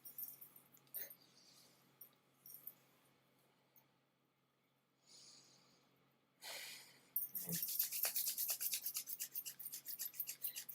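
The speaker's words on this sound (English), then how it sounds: "If you just rub your hands together" Two hands rub briskly together up close, a dry rasping swish that builds into a steady, rhythmic scrubbing in the last few seconds after quieter scattered rustles.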